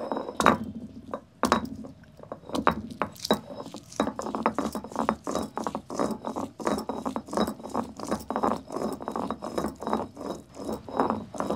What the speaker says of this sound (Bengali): আর দু তিন কোয়া রসুন একটু পিষে নেব